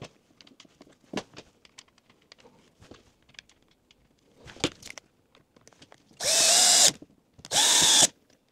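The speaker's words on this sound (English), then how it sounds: "we'll quickly just test the drill" A Titan hammer drill, just repaired, fires up in two loud, close bursts near the end, after scattered clicks, taps and handling noises.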